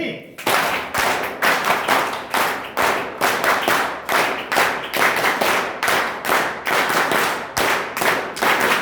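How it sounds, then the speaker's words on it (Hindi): Rhythmic group clapping from an audience at a teacher training college event in Samastipur, Bihar, with sharp, loud, evenly spaced claps repeating steadily throughout and no talk over them. "इसके लिए 3 ताली नहीं बल्कि 5"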